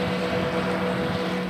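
Ultralight aircraft engine at takeoff during a microlight world show, a steady loud droning roar holding level throughout with broad wind-like noise.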